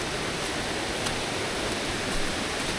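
Stream water pours out from under rocks at a stream's source, a steady broadband rush that stays close and continuous with no pauses.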